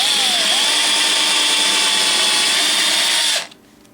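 An electric drill whines loudly and steadily as it bores into a bracket, then cuts off abruptly, leaving quiet background.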